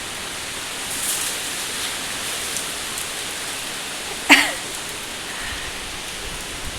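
Strong wind with light rain outdoors makes a steady broad rushing hiss, with a short sharp knock partway through.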